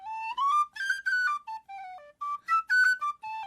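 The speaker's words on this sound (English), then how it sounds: "And they call it a penny whistle because they used to just cost a penny." A penny whistle plays a short run of clear, bright, breathy notes close up, rising and falling in a quick phrase with brief gaps between notes, heard alone.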